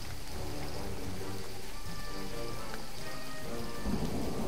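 A thunderstorm in Jurassic Park The Game pours constant heavy rain with low rumbling thunder underneath, and a soft tonal background sits beneath the downpour.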